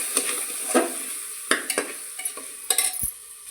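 Whole spices sizzle and fry in hot oil in a pan while a utensil stirs them with scraping clatters, the tempering for Vidarbha-style fodni khichadi, loud and close with no voices.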